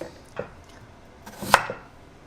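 A knife thinly slicing potatoes on a cutting board gives a few sparse, soft chops, with one sharper, louder cut near the end, all close and quiet with no talking.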